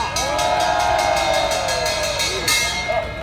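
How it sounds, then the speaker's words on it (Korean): A crowd at an emergency rally against an impeachment, held by a professors' group, keeps up loud, steady applause mixed with cheering and whoops throughout. "박수 부탁합니다"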